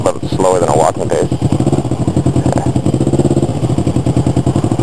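A motorcycle in Taiwan crawling at walking pace, its engine loud and close with a steady fast thumping pulse throughout, and a brief wind buffet near the start.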